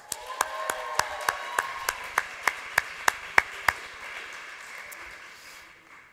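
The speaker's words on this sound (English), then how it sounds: "I think that's worth a round of applause." A single person claps about a dozen evenly spaced sharp claps during a school's live-streamed summer soiree. They sound fairly close against quiet room tone, then stop and leave a faint background hiss.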